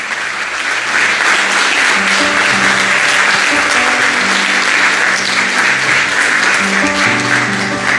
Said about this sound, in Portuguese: As palmas engrandecem o nome dEle.